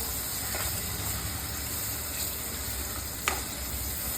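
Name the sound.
tomatoes sautéing in oil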